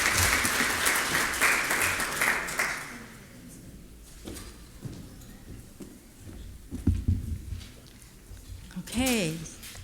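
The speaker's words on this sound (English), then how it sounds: "Let's give her a round of applause as she comes up" Conference audience applause greets a speaker coming up to the stage: full clapping for about three seconds, then it fades out and gives way to a voice talking at the lectern, with small handling noises.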